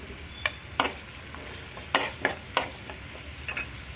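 Tempering spices, mustard seeds, curry leaves, dried red chillies and garlic, with a pinch of asafoetida, frying in hot oil for lemon chilli pickle; a steady sizzle broken by several sharp crackles and pops, close and alone.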